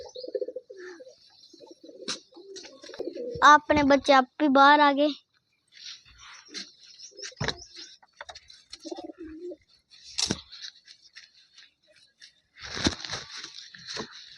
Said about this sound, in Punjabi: ਦੇਖੋ ਲੱਗ ਗਿਆ ਗੁਟਕਣ